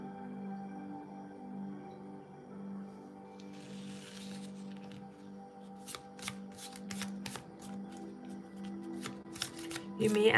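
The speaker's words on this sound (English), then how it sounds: "In a minute, I will shuffle these cards and I will lay them out." Tarot cards are shuffled with a rapid riffling flutter and sharp snapping taps in the latter half, close and fairly quiet over a low steady background hum.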